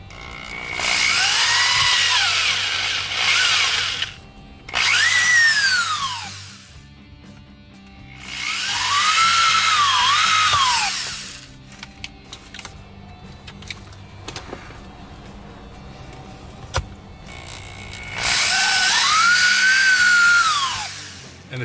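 A power drill bores through a soft plastic dash mount inside a car, four loud whining bursts of a few seconds each with pitch dipping under load, separated by quiet pauses with faint clicks and handling.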